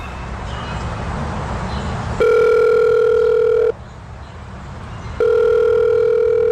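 Telephone ringback tone on an outgoing call, two long steady electronic rings separated by a pause, loud and close with no voices.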